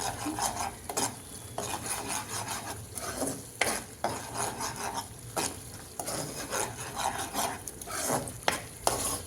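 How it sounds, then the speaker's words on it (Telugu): Egg curry with turmeric and salt is stirred in a pan, with continuous close scraping and rasping of a spoon against the metal over a low sizzle, in rhythmic strokes with distinct clanks throughout and no voices. "కింద మాడకుండా జాగ్రత్తగా కలుపుకోవాలి."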